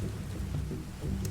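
Pelting rain with a low rumble of thunder, a brief steady wash of falling rain under a faint deep roll, with no voices.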